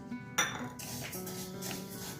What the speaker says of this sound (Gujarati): સૌથી પહેલાં આપણે એક કડાઈમાં કાળા તલ અને સફેદ તલ બે મિક્સ કરી અને શેકી લઈએ।